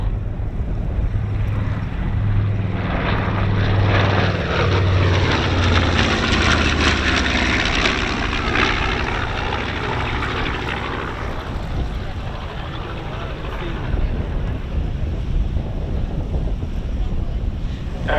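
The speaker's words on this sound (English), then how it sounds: "Takeoff time." World War II-era propeller aircraft taking off at an airshow, a loud sustained engine roar with wind buffeting the microphone, swelling and holding steady throughout.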